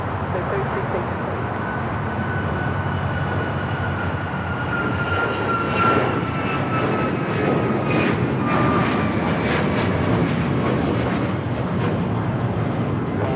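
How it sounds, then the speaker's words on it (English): A Boeing 737 MAX 9 jet airliner roars loudly and steadily on its takeoff run at Los Angeles International Airport, a broad continuous engine rumble with a rising whine; a voice also talks over it. "2086 taking off to Houston Intercontinental on the MAX 9"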